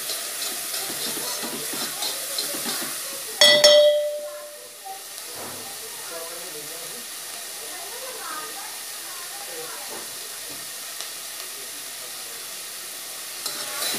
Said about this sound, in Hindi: ये देखिए अब प्याज को भी थोड़ी देर हमने चला लिया है